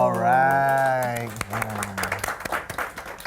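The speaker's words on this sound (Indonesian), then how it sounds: "Nih, tepuk tangannya makin kesini makin setengah-setengah ya." Half-hearted studio audience applause: a voice speaks first, then sparse, uneven clapping follows in scattered claps rather than a full ovation.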